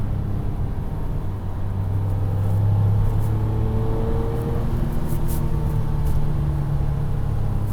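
A Porsche 959's twin-turbo engine builds under throttle, a steady close rumble that rises gradually as the boost arrives, with no talking over it.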